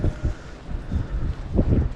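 Gusty wind buffets the microphone on a cloud-covered mountain summit, Sewell Peak, coming in uneven low thumps and rumbles over a couple of seconds with no voices.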